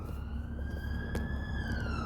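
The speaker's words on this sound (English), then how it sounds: "Sirens!" Wailing emergency sirens pass along a main road, a rising and falling tone over steady traffic rumble, moderately loud and somewhat distant with no talk.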